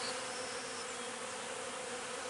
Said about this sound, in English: So hopefully these bees will start making their way into the hive.